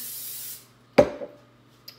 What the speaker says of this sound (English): I'm just going to spray my pan here.